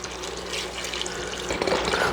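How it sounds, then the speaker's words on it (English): Chicken stock pours steadily into a pot, a continuous splashing, gurgling stream heard close up, with no voices. "I'm going to empty in our chicken stock"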